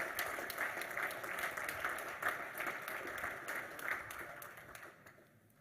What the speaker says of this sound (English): Another round of applause, please, for Thorpe Ashoff, class of 1928.